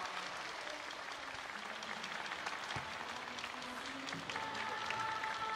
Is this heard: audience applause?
yes